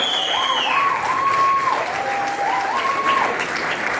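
Audience applause at a film success meet welcoming director Jayakumar: dense, steady clapping from a crowd throughout, with a sustained musical tone running underneath.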